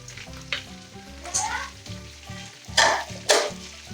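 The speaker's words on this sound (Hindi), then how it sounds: "और इसको भी 1 मिनट तक फ्राई करूँगी" Ginger-garlic paste sizzling in hot oil while a spoon stirs and scrapes the pan, with louder bursts of crackle near the end, while cooking chicken biryani.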